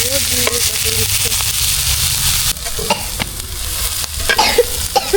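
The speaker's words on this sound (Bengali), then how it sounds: "এই যে রান্না এখন পেঁয়াজ রসুন একটু ভাজা দিয়ে গেছে।" Onions, garlic, cardamom, cinnamon, bay leaves and ground spices sizzle in a pan over an open-air fire at night. The frying hiss runs steadily beneath repeated scraping strokes of a stirring spoon, growing busier toward the end.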